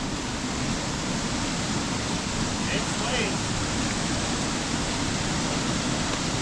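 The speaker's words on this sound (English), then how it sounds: "Look at that waterfall. It sounds like it's roaring." A waterfall near a suspension bridge over a river in the Adirondack High Peaks roars steadily, a dense broadband rush that holds without a break the whole time.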